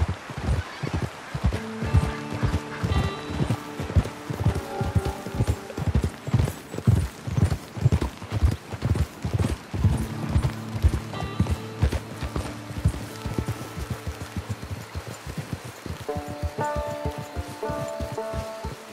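Horse hooves clip-clop steadily in Red Dead Redemption 2, a rhythmic run of hoofbeats that carries on alone with no talk, with background music beneath and a slight rustle around the footfalls.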